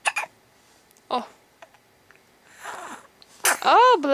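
A small child sneezes and sniffs: short scattered breathy bursts, then a sharp sneeze near the end trailing into a voiced, pitched sound, close and clear in a quiet room.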